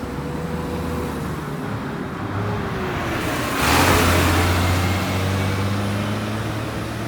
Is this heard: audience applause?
no